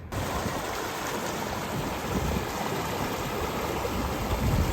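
Water runs steadily at a flooded campsite, a loud continuous rushing wash that fills the whole span with no breaks and no voices.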